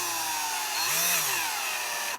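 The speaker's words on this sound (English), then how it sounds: "whenever you're using a drill, do not screw them all the way down, because you don't want to strip out those threads" A power drill drives screws into a Traxxas Slash 2wd RC car chassis during a conversion kit install, a close steady motor whine that dips and rises in pitch as it loads, then cuts off abruptly.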